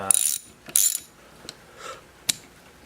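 A ratchet wrench tightens bolts on engine cylinder heads for an LS engine build, with several short loud bursts of rapid clicking followed by single sharp metallic clicks, close and without talk.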